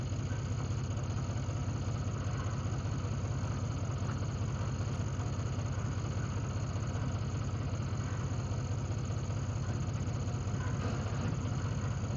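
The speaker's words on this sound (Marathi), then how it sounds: "तर आपण आता ट्रॅक्टर दमाने मागे घेऊ." A steady low tractor engine rumble close by while reversing slowly, droning continuously without change for the whole stretch.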